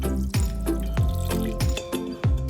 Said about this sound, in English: Pour plenty of water.